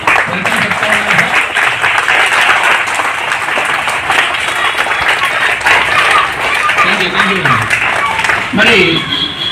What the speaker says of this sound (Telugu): మా చిన్నారుల చప్పట్లతో కరద్వార ధ్వనులతో వెల్కమ్ చెప్తా ఉన్నాం సార్